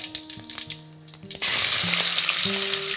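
Cumin seeds dropped into hot oil for a dhaba-style egg curry burst into a loud, steady sizzle that holds to the end. Light background music plays before and under the frying.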